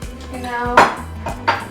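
Strawberries stirred with cream and evaporated milk in a bowl, a few close clinks and scrapes of a utensil against the dish in short bursts, with no talking.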